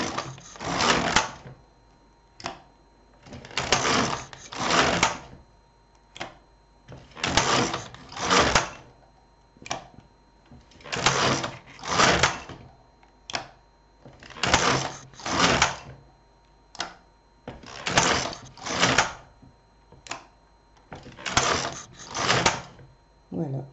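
Domestic knitting machine working rows of a border pattern, a carriage swept back and forth in regular loud rasping passes with short clacks between strokes, repeating steadily throughout with no talk.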